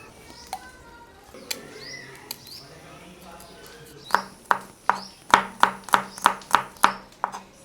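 A knife chops peeled garlic and ginger on a board: a few scattered soft taps, then a burst of about nine crisp, evenly spaced close strikes, with faint speech in the background.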